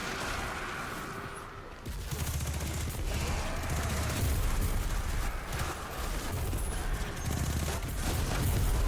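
Sustained, dense gunfire in the shooter game Destiny 2: The Final Shape rattles on almost without pause, loud and close, after a brief quieter opening.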